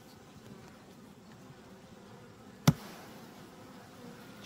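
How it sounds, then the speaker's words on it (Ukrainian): Agitated honey bees hum steadily at low volume throughout at an old-style apiary, with one sharp click or knock partway through. "Чому вони обеспокоєні, ці бджоли?"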